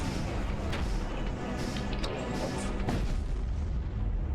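Rumbling, crashing blasts from the space combat game Void War, with repeated sharp bursts and booms over a dense, continuous noisy backdrop, loud and close throughout.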